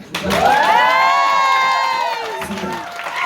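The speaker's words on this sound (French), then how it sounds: "Allez-y, applaudissez." An audience at a drag show in France cheers, whoops and applauds loudly and continuously, with high shouted voices rising over the crowd roar throughout.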